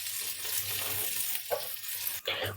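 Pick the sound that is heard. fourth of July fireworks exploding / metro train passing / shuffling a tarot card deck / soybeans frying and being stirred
soybeans frying and being stirred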